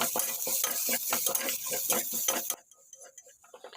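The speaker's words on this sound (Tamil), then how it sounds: "இஞ்சி பூண்டு பேஸ்ட்டு போட்டு நல்லா மிக்ஸ் பண்ணிக்கோங்க" Ginger garlic paste stirred into frying onions for a cooker veg biryani: a steady sizzle with rhythmic scraping strokes of a spoon in the pan, close and loud, breaking off suddenly into quieter, softer sounds.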